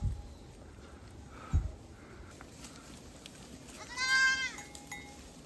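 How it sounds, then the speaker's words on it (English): A sheep or lamb from a large herd on a mountain path along the Annapurna Base Camp trek gives one clear, wavering bleat near the end, after quiet rustling and a couple of soft thumps. "all of a sudden, hundreds of sheep and lamb are just coming down the path"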